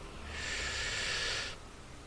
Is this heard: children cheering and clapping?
no